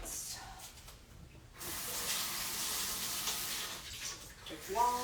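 Tap water runs steadily into a sink while measuring tools are rinsed, a close hissing rush that starts after a brief pause, with light clinks of utensils near the end.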